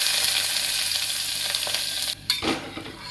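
Sliced big onions drop into hot oil already holding bay leaf, mace and cashews for a mushroom biryani, bursting into a loud steady sizzle that briefly cuts out and surges back as the onions hit the pan and get stirred.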